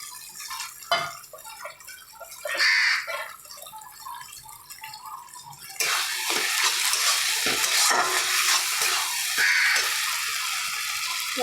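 Fried prawns are stirred into a pan of masala: soft scrapes and knocks at first, then a steady loud sizzle with spatula strokes close up.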